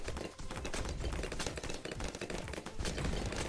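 Rapid, continuous gunfire from the blue gunner tower in Bloons TD 6 rattles on at a fairly low volume, a dense stream of quick shots mixed with other game noise.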